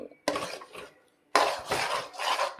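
Melted jaggery is stirred in a pan with a utensil, giving a short scrape, a pause, then a louder run of scraping and clattering strokes close by.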